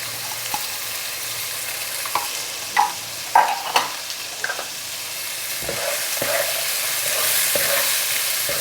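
Chopped vegetables and carrots hit a hot pan for upma, followed by soft stirring scrapes and a steady low sizzle. Several sharper clatters come in the middle, and the frying continues alone at moderate volume.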